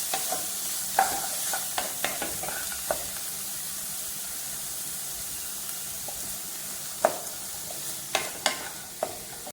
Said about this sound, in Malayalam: ഈ തക്കാളി ഉള്ളിയുടെ മസാലയില്ലേ എനിക്ക് മിക്സ് ആവുന്ന വരെ നന്നായി ഇളക്കി കൊടുക്കുക